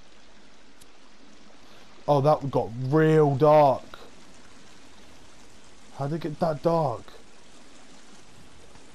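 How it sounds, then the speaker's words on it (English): Faint flowing water trickles steadily in a cave area of the survival video game The Forest, a low background wash under two bursts of someone talking. "I hear water and it's all I hear"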